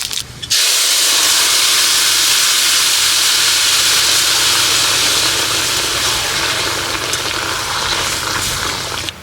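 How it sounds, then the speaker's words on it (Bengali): Bay leaf and panch phoron hit hot mustard oil in a wok for village-style cooking, bursting into a loud, steady, close sizzle and hiss that fills the whole stretch after a brief quiet start. "কড়াইতে সর্ষের তেল দিয়ে দিয়েছি এবার দেবো ফোড়ন তেজপাতা পাঁচ ফোড়ন"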